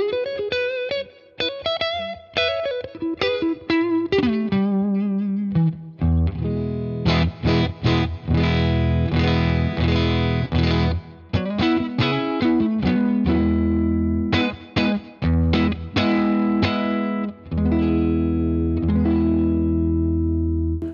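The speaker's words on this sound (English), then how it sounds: "you can still hear that the amp is breaking up a little bit" An electric guitar runs through a Fender Tonemaster amp's cab sim at 0.5 watts: a slightly broken-up, distorted tone of melodic single notes and chordal riffs, played alone at steady volume.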